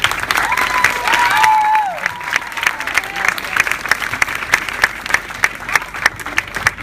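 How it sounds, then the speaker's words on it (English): A crowd applauds steadily, a dense patter of many hands clapping, with some cheering and a few voices early on. "let's clap for Berkeley"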